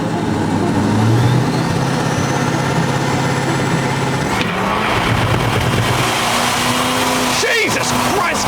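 A diesel car accelerates hard through a 0-60 run, a loud rising engine roar with gear-change breaks and climbing pitch sweeps, while people talk and shout excitedly over it.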